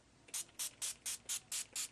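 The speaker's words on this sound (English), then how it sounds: "I sprayed some different glimmer mist on it." Seven short, crisp spritzes of glimmer mist from a spray bottle, evenly spaced about a quarter second apart, close and fairly soft.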